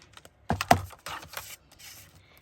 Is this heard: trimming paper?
yes